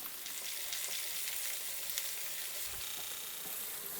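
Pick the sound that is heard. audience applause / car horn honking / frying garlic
frying garlic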